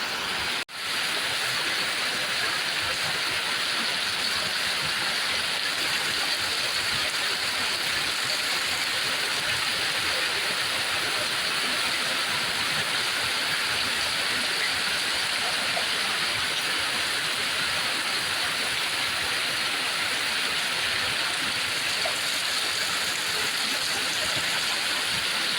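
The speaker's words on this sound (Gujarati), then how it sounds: "બોલો વધી ગયો વરસાદ" Heavy rain pours steadily in a dense, loud roar that stays constant the whole time, with no pauses and no voices.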